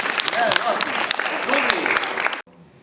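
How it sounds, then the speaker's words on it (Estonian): Children's Day audience clapping for a youngster who solved a Rubik's cube in seconds at a magic show, a short burst of brisk applause with voices over it, cutting off abruptly near the end. "No teeme aplausi ka sulle."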